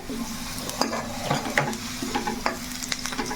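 Onions sizzle as they brown in a pan, with a spoon stirring and scraping in quick, irregular strokes over the steady frying hiss.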